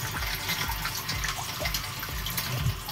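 A PN-370 water pump fills a tank with water in a quail house, a steady rushing, splashing flow with a faint low rhythmic pulse beneath it, heard close up with no talk.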